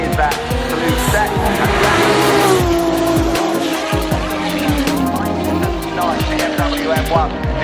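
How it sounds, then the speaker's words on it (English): A BMW race car pulls away at the Goodwood Festival of Speed with a loud, close engine roar and revving as it accelerates, with crowd and commentary noise in the background. "Away in the BMW then"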